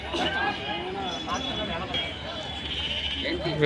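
Lambs at the Ranebennur sheep market bleating among a busy crowd, wavering cries rising and falling several times beneath steady nearby talk and background chatter.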